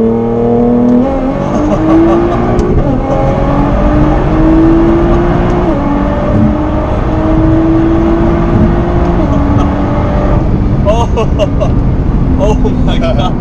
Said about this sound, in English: You just go down, full throttle.